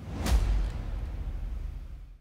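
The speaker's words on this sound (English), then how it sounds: "And then lastly, I added some orchestral impacts and bass drops to just punch you in the chest." An orchestral impact with a bass drop from a metal arrangement of Tears of the Kingdom music: one loud booming hit that fades into a long, low rumbling tail.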